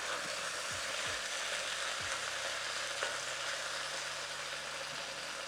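Beef stir-frying in a wok for a weeknight Mongolian beef, a steady close hiss of sizzling oil with a few scraping knocks of the utensil stirring the meat, no voices.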